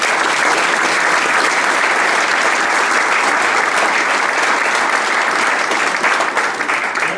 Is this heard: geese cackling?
no